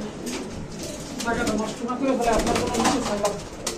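Maltese pigeons coo in low throaty rolling notes, close by and continuous, with people talking over them.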